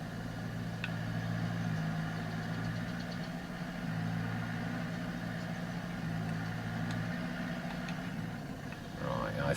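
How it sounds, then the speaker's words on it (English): Throaty tractor engine idling steadily in Farming Simulator 22, a continuous low rumble held at an even level with no talk over it. "But this has got a nice throaty engine."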